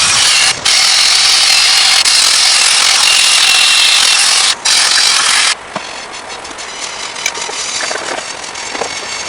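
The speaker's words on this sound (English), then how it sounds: "Just cleaning out our flywheel, or off our flywheel." Engine flywheel on a Troy-Bilt riding mower being cleaned with a power tool, a loud steady abrasive grinding hiss that cuts briefly twice, then drops to a quieter scraping rub with scattered ticks.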